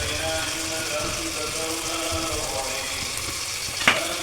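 Onion, ginger and curry leaves sauté in a pan with a steady, close sizzle and frying hiss. A brief clink of a utensil comes near the end, and a person talks over the cooking.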